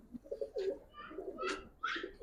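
Domestic pigeons of colored and Giribaz breeds cooing close by in a few throaty, rolling calls, alone without talk.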